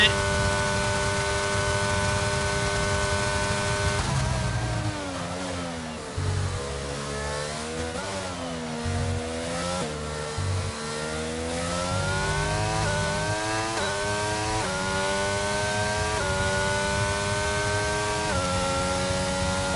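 Racing car engines from a sim racing game in qualifying at the Mexico circuit, a steady high-pitched whine rising and falling through gear changes, loud and continuous throughout.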